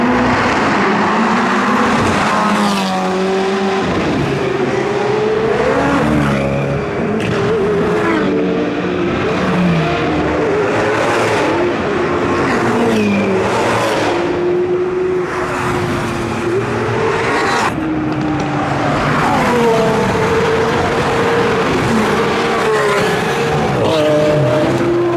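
Lamborghini Centenario supercars at a Supercar Sunday meet, speeding away one after another with loud, close engines revving and rising in pitch through the gears, sustained roaring throughout.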